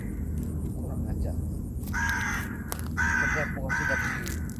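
Crows caw around a hermitage, three harsh, loud calls in quick succession over a steady rumbling background.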